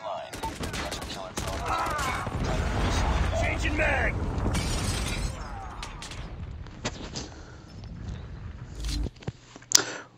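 .50 GS sniper rifle shots and other gunfire in the video game Rust, with sharp cracks and clattering mechanical noise over a busy, dense battle mix and some louder spikes near the end.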